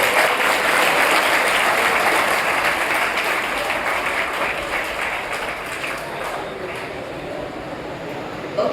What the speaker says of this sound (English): First give a big applause to you.